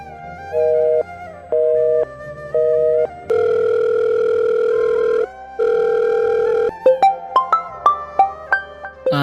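A telephone rings with repeated electronic tones, short paired bursts and then longer steady tones, followed by a run of quick melodic beeps; clear and fairly loud with no talking.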